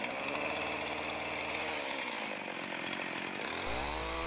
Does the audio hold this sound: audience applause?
no